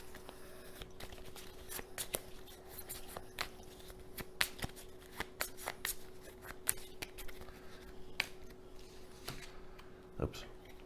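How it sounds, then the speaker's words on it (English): Game cards reshuffled during a solo tabletop session of Viscounts of the West Kingdom, giving soft, scattered riffling clicks and taps across the whole stretch, close by and quiet, with a faint steady hum underneath. "I just spent it all, and I have to reshuffle."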